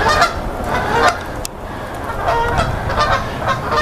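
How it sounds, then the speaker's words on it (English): Geese at a Maine wildlife park honk loudly and close, with several overlapping calls repeating throughout against outdoor background noise. "I found some more geese back there."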